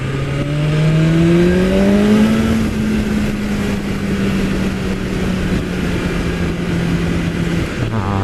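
A 2019/20 BMW S1000RR superbike engine revs and pulls through the gears on a road test ride, a loud, rising engine tone that climbs then holds a steady drone with wind rush throughout.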